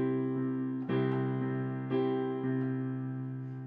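Solo piano plays a slow chord pattern, with several sustained chords struck one after another at an unhurried pace, each ringing and slowly fading, clear and close with no talking.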